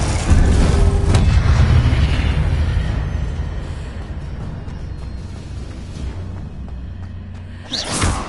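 A deep booming blast from the Confringo explosive spell in the Hogwarts Legacy video game, a loud rumbling burst that slowly decays, followed by a second sharp whooshing impact at the end.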